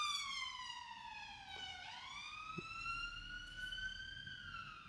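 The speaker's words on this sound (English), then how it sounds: "siren." A police siren wails alone, its pitch sweeping down and then gliding back up, fairly faint as though passing outside at a distance, with no voices over it.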